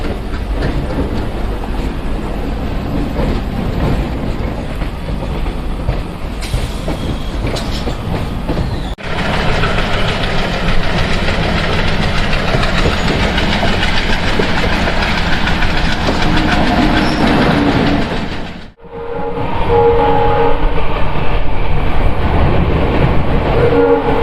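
The Howrah–Radhikapur Kulik Express rolls along, heard from the coach right behind its ALCO diesel locomotive: a loud, steady rumble and clatter of wheels and engine, with a brief dip in the noise near the end before it resumes at full strength.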